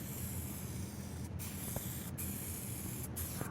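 A paint spray gun hisses steadily while it coats a car in the Car Mechanic Simulator 2021 video game, a continuous airy rush with a few brief breaks.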